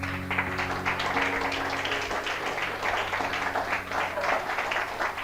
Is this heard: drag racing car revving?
no